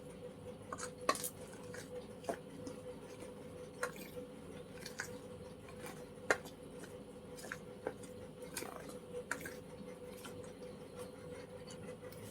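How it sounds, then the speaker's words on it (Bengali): A spoon stirs a mixture in a cup or bowl, tapping and scraping the sides with sharp clinks at irregular intervals, faint and close, over a soft background hum. "চামচ দিয়ে এটাকে মিক্সড করে নেব আমি"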